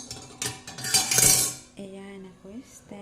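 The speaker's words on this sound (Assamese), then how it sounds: "আৰু ইয়াত এনেকুৱা এপাত মই ষ্টেণ্ড" A metal stand is lowered into a 5-litre pressure cooker on a gas stove, giving a burst of loud metallic clanks and scrapes, then a few lighter clinks and rings as it settles.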